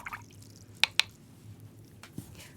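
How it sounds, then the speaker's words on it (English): A paintbrush is dunked in water while working with watercolour pencils: faint small splashes and two sharp, quick taps close together, then a softer drip, all quiet and close with no speech. "So just dunking the brush in water then, coming back up to the top of the hat"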